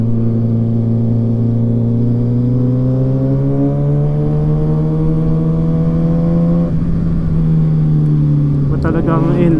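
A Kawasaki Z900 inline-four motorcycle engine revs steadily and loud up close, its pitch climbing smoothly for several seconds before a brief shift, with a voice faintly under it.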